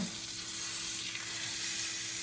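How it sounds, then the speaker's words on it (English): Steady, loud sizzling of Wagyu steaks frying in a hot pan, a continuous crackling hiss with no voices. "Nothing more awesome than the sound of sizzling meat."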